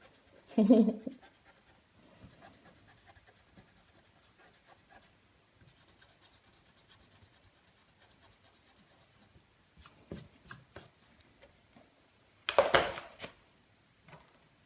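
An eraser rubs out extra pencil eye lines on a beginner's drawing of a woman's face, giving faint scratchy scrubbing in short bursts, close up, with a couple of louder handling rustles.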